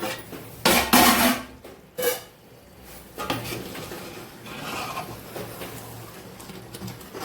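A cooking pot for a large chicken dum biryani is uncovered with loud metallic clanks of the lid and utensils, followed by quieter scraping as the masala is stirred, no talking.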